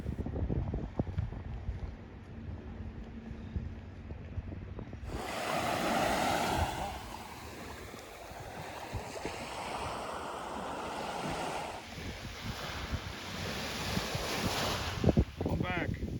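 Ocean waves wash onto the beach at Captiva Island, a surging rush that swells and recedes amid wind buffeting the microphone, fairly close, with voices faintly heard at moments.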